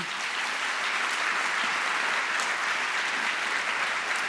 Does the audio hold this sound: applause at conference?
yes